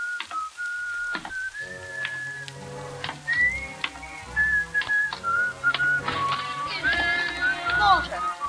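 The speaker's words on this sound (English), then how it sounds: "You still remember my whistle, eh?" A man whistles a familiar tune in short melodic phrases, close and clear, accompanied by background music and scattered sound effects in an old radio drama.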